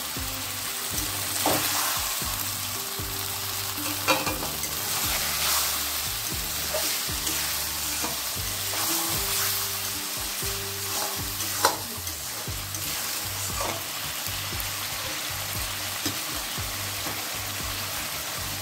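Spice masala cooked with mutton fat for ghugni sizzles and bubbles after a splash of water, a close, continuous frying hiss broken by occasional stirring scrapes and clinks of a spoon against the pan.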